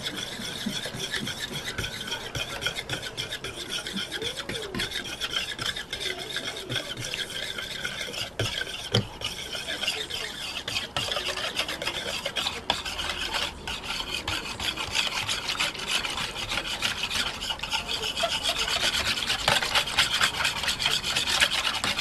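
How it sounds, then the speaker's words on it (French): A small whisk stirs a guar gum mixture in a bowl for papermaking, giving a steady, continuous scraping and swishing rub close by for the whole stretch, with no talking. "Un petit fouet pour bien mélanger."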